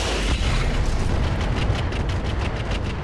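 Mech weapons in the Roguetech BattleTech game fire and explode in a dense, rumbling barrage of booms and bursts, loud and continuous with overlapping blasts and no talk.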